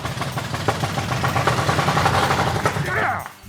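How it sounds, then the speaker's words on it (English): An old Six Pack Super Bee engine, unrun for decades, fires up with sharp popping bursts and settles into a rough, loud running rumble, with voices nearby, before cutting off near the end. "That is an engine that hasn't ran for 50 years, folks."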